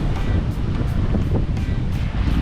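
Ocean surf on a large beach in Mexico rolls in a continuous rushing wash with repeated swells, mixed with wind buffeting the microphone, loud and close with no talking.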